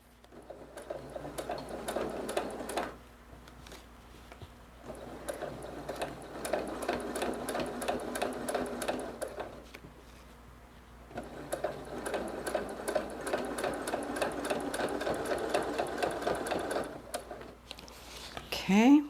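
A sewing machine quilts along a straight ruler in bursts of rapid, even stitching that stop and start several times. It sounds close, with a person talking between and over the runs.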